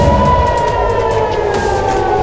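Air raid sirens wail across Israel during a combined missile attack, a steady sustained siren tone filling the whole stretch loudly with a rumbling low background and no voices.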